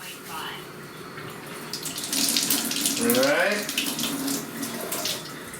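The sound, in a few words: water running from a Kangen water machine into a pot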